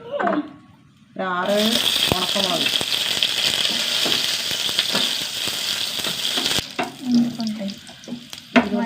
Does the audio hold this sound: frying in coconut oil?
yes